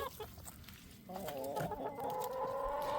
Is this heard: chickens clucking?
yes